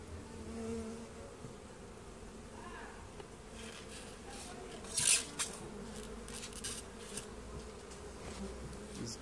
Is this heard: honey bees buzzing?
yes